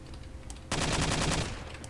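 A Sten submachine gun fires a single short automatic burst in the video game Return to Castle Wolfenstein, loud and close, after a brief quiet lead-in.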